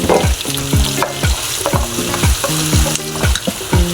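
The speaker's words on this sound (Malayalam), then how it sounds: "ഇതിലോട്ട് അരിഞ്ഞു വെച്ച തക്കാളി നമുക്ക് ഇട്ട് കൊടുത്ത് വഴറ്റാം" Chopped tomatoes sautéing in a pan for paneer butter masala, with a steady loud sizzle and repeated rhythmic scrapes of a spoon stirring about twice a second, close up, no voices.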